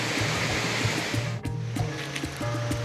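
Steady rushing water pours continuously over rocks at a forest waterfall, a full broadband wash with a low rumbling undertone and no voices.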